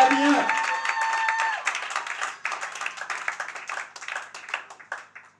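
Congregation applauding the Lord at a church service, steady rhythmic clapping from many hands filling the room, with voices and a brief sung or spoken tone at the start, gradually thinning and fading.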